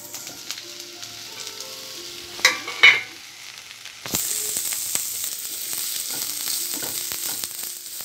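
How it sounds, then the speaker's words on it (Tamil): Chopped onions fry in oil in a pan for a paneer gravy, a steady close sizzle with a few stirring clatters, growing louder and brighter halfway through. "வெங்காயம் கொஞ்சம் ஃப்ரை ஆகட்டும்"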